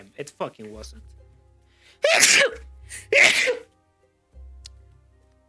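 Two loud, close sneezes in quick succession, each a sharp explosive burst about a second apart, following a few words of casual speech, with a low steady hum underneath.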